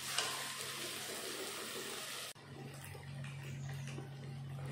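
Fried fish pieces dropped into a pan of cooked-down spice paste with a little water, giving a close, steady sizzle and bubbling that eases after a brief clatter, with no talking.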